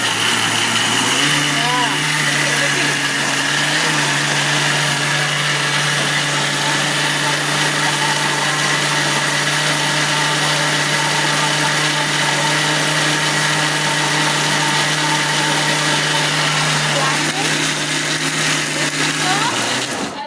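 A kitchen mixer grinder churns idli dosa batter with a loud, steady whirring drone that runs almost unbroken for the whole stretch, with voices faintly underneath.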